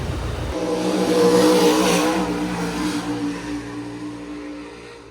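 A dirt-track sprint car at Hagerstown Speedway in Maryland runs a time-trial lap. Its high-revving engine roars louder as it passes, holds a steady buzzing drone, then fades into the distance.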